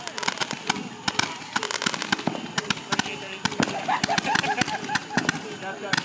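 Backyard July 4th fireworks cake with about 140 shots, firing rapid sharp bangs and crackles in a dense irregular volley at close-to-mid distance, with family members chatting and reacting underneath.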